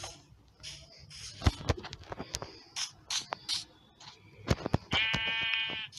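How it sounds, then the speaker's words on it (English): Sheep bleating in Minecraft, a clear wavering bleat near the end among blocky clicks, thumps and short game sound effects, close and fairly loud with no talking. "Whoa, one more sheep."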